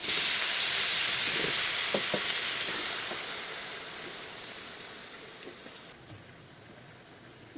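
Meat frying with onions in a pan for Filipino menudo gives off a steady, close sizzling hiss with faint crackles, slowly quieting over several seconds.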